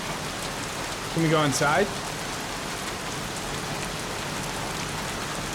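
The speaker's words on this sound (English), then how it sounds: "Jeez, won't this rain ever let up?" Heavy, steady rain pours on surfaces in the Heavy Rain video game, a constant hiss throughout, with a brief spoken line from a person near the start.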